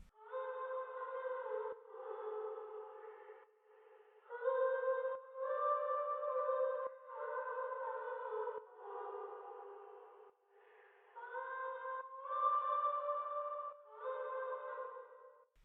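A pitched-up, airy sampled layer pulses in rhythmic swells, ducked by a shaper-box side chain into a steady pumping pattern, played alone and moderately loud.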